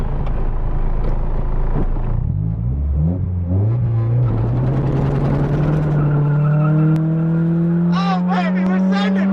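A turbocharged Nissan 240SX S13 with a KA engine launches hard on a mountain road, its engine roaring loudly and climbing steadily in pitch as it pulls through the gear, with tire noise and excited voices audible near the end.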